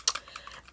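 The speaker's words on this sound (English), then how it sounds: "But Case, as I'm looking this up real quick, as you hear me typing, Case" Fingers type on a computer keyboard in a quick, close run of soft key clicks, with one sharper tap near the start and lighter presses following.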